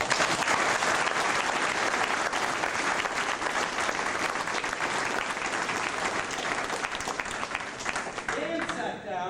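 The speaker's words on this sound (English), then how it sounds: "Give him a round of applause" An audience at a karate seminar claps loudly and continuously for several seconds, a broad dense applause, with a voice emerging faintly as it tapers at the very end.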